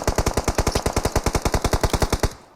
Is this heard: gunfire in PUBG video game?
yes